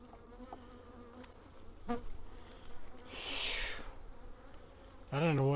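Honeybees buzz around beehives outdoors, several insects droning and whining past at varying distances, with one loud close fly-by near the end; faint background noise but no clear speech.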